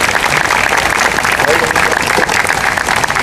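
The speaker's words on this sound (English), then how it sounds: "So please give them a big round of applause and let's get this started." An audience applauds at an evening concert: dense, steady clapping that holds at full strength for the whole stretch without fading.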